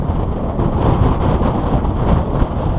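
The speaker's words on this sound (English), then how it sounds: "That wind's really bad." Strong wind buffets the microphone on a hillside walk above a steelworks valley, a continuous loud roaring rumble that swells and eases without a break, with no other sound standing out.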